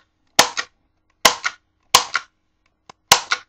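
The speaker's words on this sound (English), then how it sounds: "and you're going to staple" Sharp stapler punches driving staples through a stacked set of paper booklets, four loud crisp snaps each followed by a shorter second click, spaced about a second apart with no talk.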